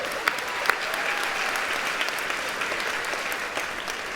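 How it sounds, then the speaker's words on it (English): A large audience applauds at a Latina History Day speech, a dense even roar of clapping held for several seconds with a few sharper close claps on top. "Give yourselves a round of applause."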